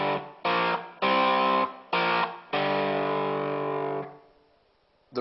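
Distorted electric guitar plays a riff, picked with thumb and index finger: a run of loud, sustained chords with short gaps, the last note ringing out and fading.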